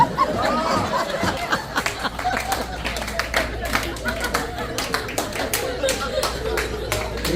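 Audience clapping at a Hindi comedy poetry gathering in New Jersey, a steady patter of hands with scattered chuckles and laughter running through, fairly close and continuous.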